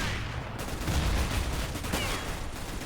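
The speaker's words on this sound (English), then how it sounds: "I'm throwing a grenade." A grenade going off in a first-person shooter game, a dense burst of loud explosive and gunfire-like noise that fills the whole moment without pause.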